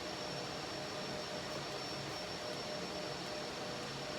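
An Oneida SuperCell dust collector runs in a woodshop, heard from the far end of the room as a faint, steady whooshing hum with no breaks.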